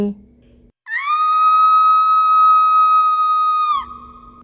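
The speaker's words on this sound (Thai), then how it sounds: "ผีนางเปียว ถึงกับส่งเสียงหวีดร้องอย่างโหยหวน" A ghost's shriek sound effect from a Thai horror story: one loud, sustained, piercing whistle-like tone lasting about three seconds, bracketed by brief quieter low sounds before and after.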